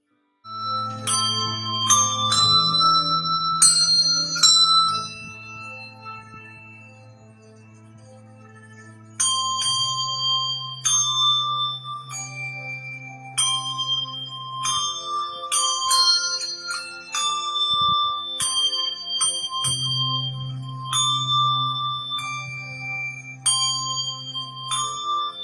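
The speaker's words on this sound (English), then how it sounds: "Handbells." Handbells ring a bright festive tune, clear struck tones sounding one after another in a steady melody over sustained low ringing notes, close and alone.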